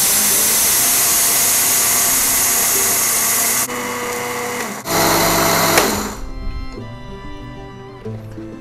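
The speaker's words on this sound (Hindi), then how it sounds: "चावलों को हम लोग ग्राइंडर में डाल देंगे" Rice grinding in a kitchen grinder: a loud, steady high-pitched motor whir with brief dips as it pauses and restarts, then winding down to a stop near the end.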